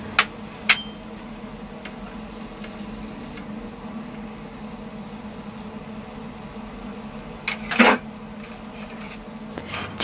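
Raw shrimp are tipped into a frying pan of spice paste cooked down in oil and stirred, for a Bengali ridge gourd dish: a steady close sizzle with a couple of sharp clinks of the utensil against the pan.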